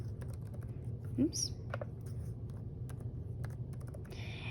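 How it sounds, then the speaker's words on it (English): Typing on a Chromebook keyboard gives a few quiet, scattered key clicks over a soft background hum, with a brief spoken word partway through. "if we're typing"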